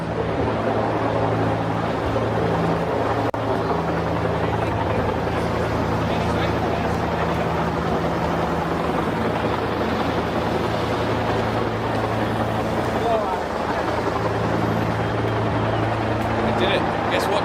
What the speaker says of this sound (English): Helicopter too loud